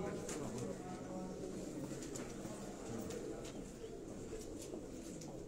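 Well-bred pigeons coo softly on a rooftop loft over a steady background hum, with faint voices present.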